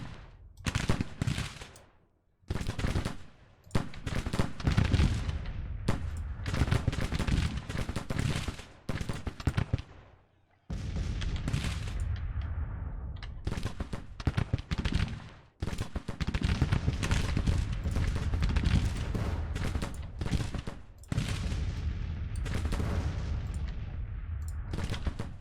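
Civil War cannon and musket fire in the strategy game Grand Tactician, dense rolling volleys and booms, nearly continuous with brief pauses, loud and close.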